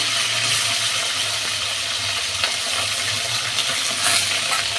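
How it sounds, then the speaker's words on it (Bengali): Cut potatoes fry in hot oil for a dal and banana-flower ghonto, a dense steady sizzle heard up close with occasional soft clicks of stirring and no speech. "দেখো বন্ধুরা, আলুটা আমার এবার ভাজা হচ্ছে।"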